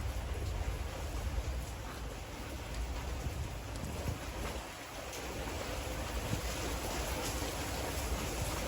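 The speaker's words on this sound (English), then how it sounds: "it's raining very hard" Heavy South Florida rain pours down in a dense, steady hiss that fills the whole scene without letting up, broad and close with no voices over it.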